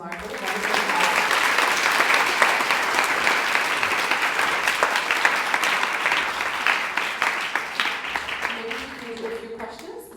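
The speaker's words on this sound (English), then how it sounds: "let's give another round of applause to Mark" Sustained applause from an audience at a spiritual talk in Austin, Texas, steady and full for most of the stretch before thinning out into scattered claps, with faint voices underneath near the end.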